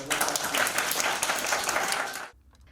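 Close, dense applause from a school group cheers a student at a report-card day celebration, holding full and steady for about two seconds before stopping abruptly.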